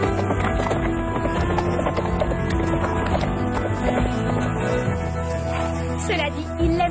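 Horses gallop in a busy mix, their hoofbeats carried steadily under a dense, continuous musical backdrop for about seven seconds.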